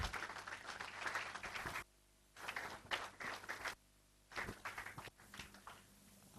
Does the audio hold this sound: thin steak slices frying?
no